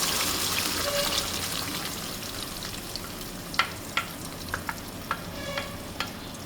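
Ground spinach and masala paste sautéing in a pan make a steady wet sizzle and hiss, broken by several sharp stirring clicks and taps in the second half, with no one talking.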